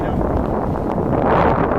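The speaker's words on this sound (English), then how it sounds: "Especially in conditions like this when it's windy here" Strong wind buffets the microphone with a constant, loud low roar that barely changes throughout.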